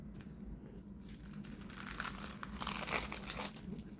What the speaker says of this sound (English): so now we're just going to fold over our napkin